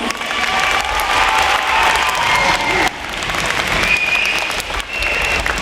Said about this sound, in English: Let's give Remix one more round of applause.